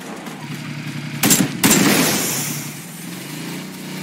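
Two sharp bursts of silenced gunfire aimed at a car tire in a video game, close and loud, set over a steady low engine drone.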